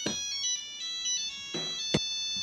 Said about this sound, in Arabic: ماما اردي على التليفون